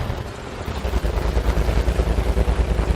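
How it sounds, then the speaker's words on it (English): A damaged tank engine in a tank video game runs steadily with a loud, rough low rumble throughout, with no talk over it. "That engine sounds terrible. Oh, it's horrible running around with a bad engine."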